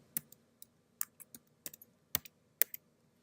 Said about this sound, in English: So you just have to type in your password